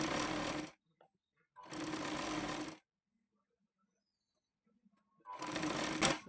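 A sewing machine runs in three distinct bursts while double-stitching a katori blouse, each run loud and steady with short silent pauses between.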